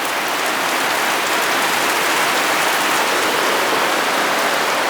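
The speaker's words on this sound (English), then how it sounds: "There's a lot of rain." Heavy rain pours down during a thunderstorm in southeastern Pennsylvania, a dense, loud, steady hiss of close rainfall that fills the whole span with no voices.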